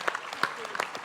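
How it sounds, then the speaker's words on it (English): Applause from an audience honouring a female police officer at a women-in-leadership event, a short burst of clapping with uneven, sharp peaks, moderately close. "I think she deserves a round of applause for that."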